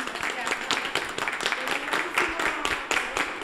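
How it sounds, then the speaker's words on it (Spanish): A school dining hall crowd applauds its cooks, a steady patter of many hands clapping in the room, moderately loud and continuous, with voices mixed in under the clapping. "Aquí el aplauso"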